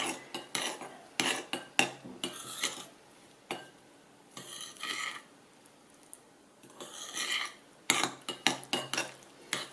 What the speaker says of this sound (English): So now you're just going to mix that up really well.